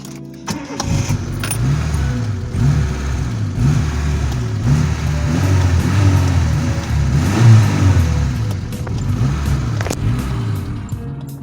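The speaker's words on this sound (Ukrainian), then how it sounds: "Ось так, ось така робота двигуна." A ZAZ Tavria car engine runs close by with a lumpy, wavering tone that rises and falls irregularly, never settling into a steady idle.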